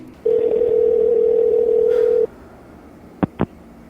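A telephone line to a hotline plays a loud, close dial tone for about two seconds, then falls quiet before two quick keypad tones, with no voices.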